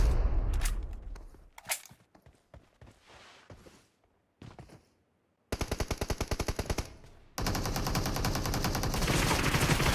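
AUG rifle gunfire in a PUBG team deathmatch: a few scattered shots and thuds, then a close, rapid automatic burst and a sustained loud stream of fire.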